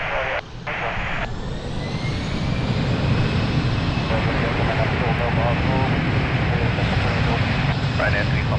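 An airliner takes off at Lisbon Airport, its jet engines roaring loud and steady as it builds power on the runway. Air traffic radio talk sits under the engine noise.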